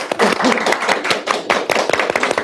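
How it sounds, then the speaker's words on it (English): A small audience at a live Q and A claps for Phil and the panel, close, uneven hand claps in a brisk burst with faint voices mixed in. "Big round of applause for Phil."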